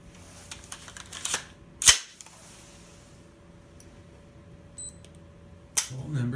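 A rifle fitted with a James Madison Tactical Saber trigger is dry-fired for a trigger pull test, giving two sharp, close mechanical snaps a few seconds apart over quiet room noise, with a fainter click before them.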